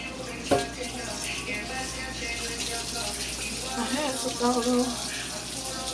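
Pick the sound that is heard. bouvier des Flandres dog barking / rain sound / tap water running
tap water running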